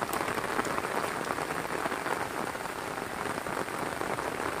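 Heavy rain pours steadily in the village of Cimura, Garut, West Java, a dense, even hiss of drops drumming on surfaces, loud and unbroken from start to finish with no voices.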